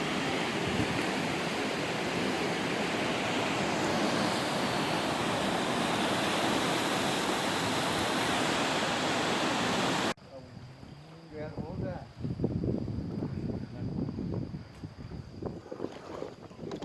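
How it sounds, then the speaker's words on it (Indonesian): River water running through rock crevices, a loud continuous rushing wash for about ten seconds, then a sudden cut to a quieter scene with uneven splashing and handling sounds. "air sungai tidak ada di atas permukaan, namun melewati celah-celah batu"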